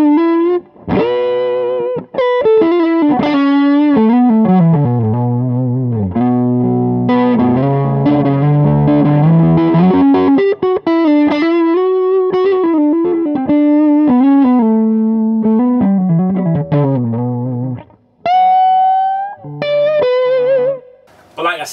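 Electric guitar played through a Valvette Custom Drive overdrive pedal with the tone knob rolled off, giving a warm, dark, bluesy driven tone as sustained bends and lead phrases ring out, ending with short separate notes.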